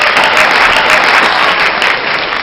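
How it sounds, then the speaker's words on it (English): An audience bursts into loud, dense applause that holds steady and unbroken throughout, with no voices over it. "Let's see if I got some applause here."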